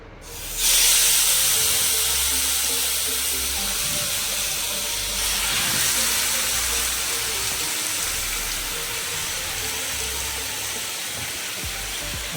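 Marinated chicken fries in ghee for homemade chicken biryani, a loud, close, steady sizzle that bursts in abruptly and hisses on continuously with no voices.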